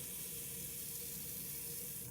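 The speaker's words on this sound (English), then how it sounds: "And fill the rest up with water." Tap water steadily fills a container for a car wash mix while a 1973 Corvette Stingray is being washed, a continuous close rushing hiss without pause and with no talking.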